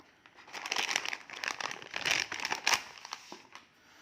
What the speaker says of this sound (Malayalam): അപ്പോൾ നമുക്കൊന്ന് അൺബോക്സ് ചെയ്ത് നോക്കാം.